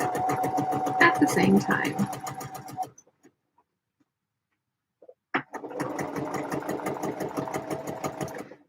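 A home sewing machine stitches construction seams in rapid, even bursts, stopping for a couple of seconds before starting again, close and loud, while someone talks over it.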